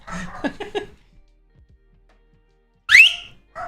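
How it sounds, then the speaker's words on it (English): A person gives one sharp, rising whistle to quiet someone during an art stream. Talk comes first, then a pause, and the short, loud whistle stands alone before more speech begins. "I'm gonna whistle at him to get him to be quiet."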